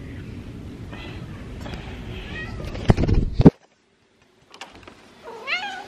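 A pet cat gives a couple of soft, near meows near the end, after a low rumbling stretch and a few sharp handling thumps.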